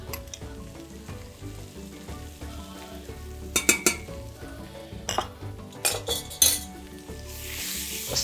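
Ground ginger and coriander fry in a pan with a steady, close sizzle while a metal utensil stirs and scrapes against the pan in several clattering bursts, and the hiss swells louder at the end.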